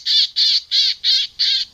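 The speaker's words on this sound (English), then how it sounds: "Sounds like a big bird, but that one is from this machine." A farm bird-scaring device plays a recorded call of a large bird: six loud, harsh squawks in a steady rhythm, each about a quarter-second long, separated by short gaps and heard close up with no other sound.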